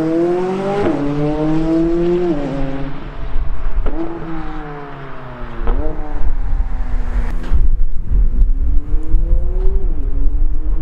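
A McLaren 570S sports car engine revs loudly in repeated rising sweeps, each pull climbing in pitch before dropping back as it accelerates through gears, close and continuous for the whole stretch.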